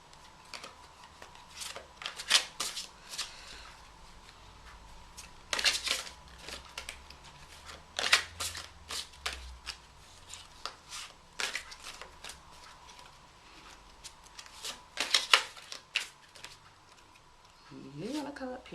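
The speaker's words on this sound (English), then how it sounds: "it has a lot of cards, so it's kind of difficult to shuffle" A large deck of tarot cards being shuffled by hand, crisp riffling bursts repeating every few seconds between quieter rustles, close and fairly soft, with no voice heard.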